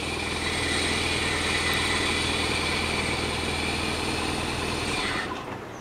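A Geo Prizm engine with a freshly replaced timing belt runs at a steady, close, even idle for about five seconds, then the sound drops off abruptly near the end.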